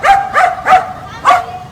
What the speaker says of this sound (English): This dog literally will go after cars, bark at them, tell them to stop so these kids can cross.